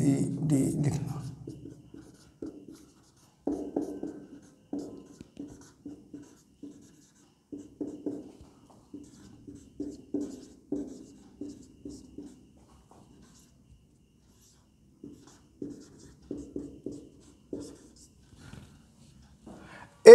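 A pen writes letters on paper in short scratchy strokes, close and quiet, coming in bursts with brief pauses, with soft speech faintly present.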